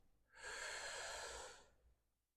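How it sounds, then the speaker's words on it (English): A slow, deep breath drawn in through the nose during guided meditation, a soft airy rush lasting over a second, close and quiet, then fading into silence. "And inhale."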